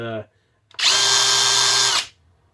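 A Seesii brushless 1/2-inch right-angle impact wrench runs at full speed in a loud, steady burst lasting just over a second, then cuts off sharply. A brief voice is heard right before it.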